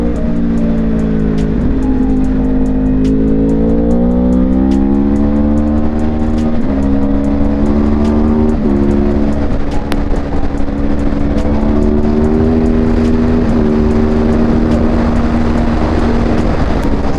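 A Yamaha R1 sport motorcycle is ridden with a loud, close engine note that rises and falls through revs and gear changes, plus constant wind roar, over about seventeen seconds.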